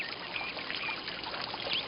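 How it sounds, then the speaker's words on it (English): Water trickles and burbles continuously nearby, with a few faint bird chirps in the background. "I hear the water."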